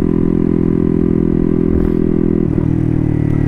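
A Honda Grom motorcycle with a turbocharged CBR engine swap drones steadily at high revs while being ridden, a loud, even buzzing note with a brief dip as the throttle shifts.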